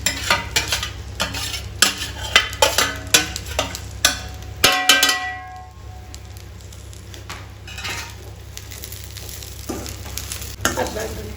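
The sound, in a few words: onions frying with okra in a pan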